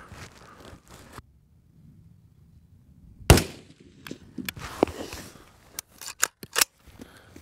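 A rifle firing 55-grain soft point lead ammunition lets off one loud, sharp crack near the middle, set against quiet rustling, with a few crisp mechanical clicks and snaps after it.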